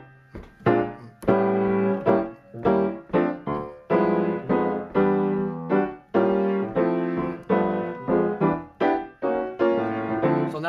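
Piano comping in a band style, with rhythmic chords broken up by short melodic lines played inside the chord shapes. The attacks come in a steady, syncopated pattern at close range with no voices.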